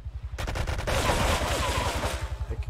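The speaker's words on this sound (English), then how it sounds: "we're gonna shoot this cunt with this gun. We've got one sniper bullet left" Gunfire in GTA 3, the sniper rifle in play: a sharp burst of closely spaced cracks breaks out, then fades into a dense, rumbling wash of game noise over a steady pulsing low drone.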